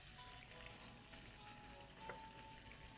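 Chicken liver and gizzard frying in a pan, a steady, even sizzle heard up close with no talking.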